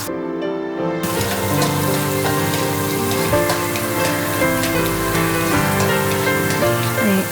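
Finely chopped garlic fries in a pan for tomato and corn soup, a loud, steady sizzle that starts abruptly and holds under continuous background music.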